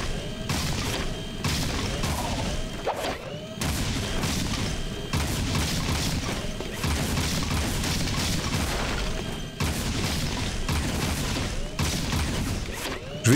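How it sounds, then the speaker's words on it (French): A machine gun fires in Jak II, a loud, sustained burst-like rattle with heavy booming impacts that carry on almost without pause throughout. "C'est un fusil mitrailleur en fait."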